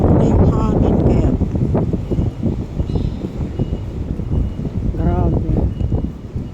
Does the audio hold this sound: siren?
no